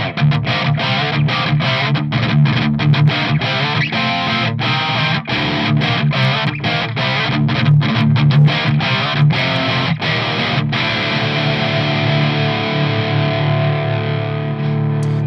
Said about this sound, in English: So you can hear that like internal clippy sound as well inside it